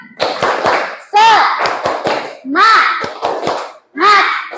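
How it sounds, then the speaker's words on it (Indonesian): A classroom of children doing the rhythmic 'tepuk semangat' clapping chant, loud sharp claps in bursts alternating with group voices chanting along, close and energetic. "Oke, bersama-sama tepuk semangat."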